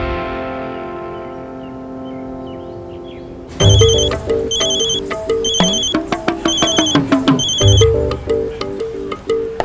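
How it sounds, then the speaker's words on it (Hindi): A ringtone plays loudly during a phone call, a repeating melodic electronic pattern that starts abruptly after a quieter musical passage and keeps cycling to the end. "फोन करती हूँ।"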